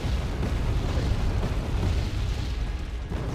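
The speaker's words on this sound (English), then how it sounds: "They are in the open, so they are pretty susceptible to artillery fire" Artillery shells land repeatedly in the real-time war game Wargame Red Dragon, a dense, continuous rumble of booming explosions and bursts, heavy and loud with no break.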